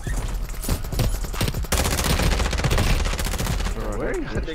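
Sustained automatic gunfire in Call of Duty Warzone 2 pours out in loud, rapid volleys, shots overlapping in a dense rattle, with a voice speaking over the shooting near the end.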